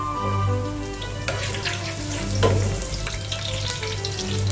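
Garlic and green chillies fry in hot oil in a pan, a continuous crackling sizzle close by with occasional scrapes of a spoon and a low steady hum underneath.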